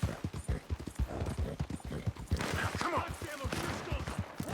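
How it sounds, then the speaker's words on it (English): Gunfire in the Western video game Red Dead Redemption 2 rings out in scattered bursts behind steady horse hoof clip-clops, with someone talking over the ride. "I hear gunshots."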